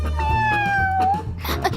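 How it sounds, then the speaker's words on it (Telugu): A cat lets out one long, clear, drawn-out meow up close, followed by brief voices and rustling from a Telugu comedy film scene. "నాకు ఈ పిల్లి కావాలి"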